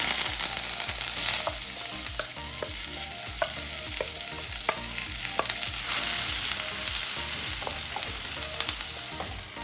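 Ginger-garlic, shallots, green chilies and curry leaves sauté in a hot pan with a loud, steady sizzle. A spatula scrapes and taps against the pan again and again, with no talk.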